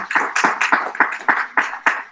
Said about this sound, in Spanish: Podéis aplaudir.